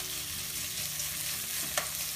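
Salmon and chopped onion fry in a pan while being stirred, a soft continuous sizzle with a small scrape of the utensil near the end, no talking.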